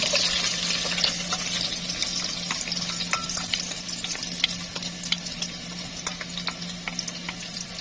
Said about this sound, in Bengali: তেজপাতা দিয়ে ভালো করে নাড়িয়ে নেব